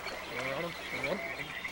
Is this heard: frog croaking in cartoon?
yes